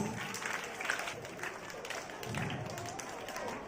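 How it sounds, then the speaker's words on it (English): An audience at a school graduation day celebration applauds students, a continuous, fairly faint spread of many hands clapping, with some voices mixed in. "Please give them a big round of applause."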